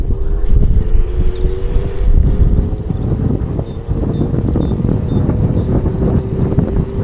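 Riding an IENYRID M4 Pro S+ Max electric scooter (48V, 20Ah, 800W) at speed outdoors, with steady loud wind rush and road rumble buffeting the microphone throughout, a faint motor whine running underneath.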